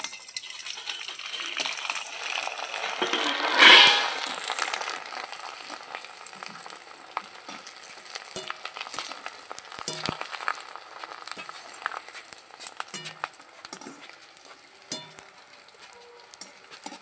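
Sago papad fries in hot oil with a bright, continuous sizzle that surges loudly as it goes in, then settles into crackling with scattered pops and light clinks, close by and with no talk.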